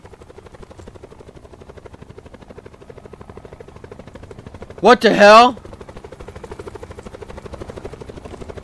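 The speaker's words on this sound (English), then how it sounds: "There's a helicopter. What's going on? There's a helicopter." A helicopter in the Roblox game Jim's Computer drones with a steady rotor chop under a brief, loud exclaiming voice midway.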